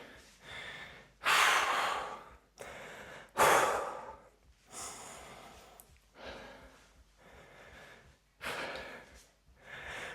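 Heavy, deep breaths from a person resting between kettlebell exercises before push-ups, about six long exhales and inhales, some loud and forceful, others softer, heard alone and close.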